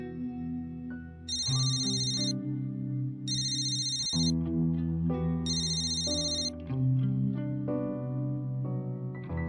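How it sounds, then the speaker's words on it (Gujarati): An outgoing phone call ringing with a musical caller tune: a bright, electronic melody with repeating high chime bursts, played steadily and fairly loud with no speech. "એક મિનિટ, રિંગ જાય છે."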